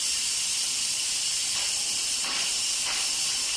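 Steam hisses steadily from an Instant Pot pressure cooker during a quick release after cooking corn chowder, a loud continuous broadband rush that swells slightly near the end, with no talking.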